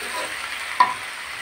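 Onion stalks frying with garlic and new potatoes in a pan, stirred: a steady soft sizzle throughout with one brief scrape of the spatula near the middle, close and moderately loud, no talking.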